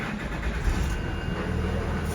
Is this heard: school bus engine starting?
yes